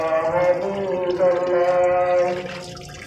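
Water poured onto dry sand in a chicken pen, a steady splashing and gurgling stream that runs for about three seconds at close range, fading slightly toward the end.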